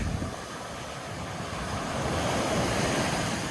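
Ocean surf rolls onto a beach in a steady, loud wash of breaking waves, with wind buffeting the microphone throughout and the roar swelling slightly toward the end.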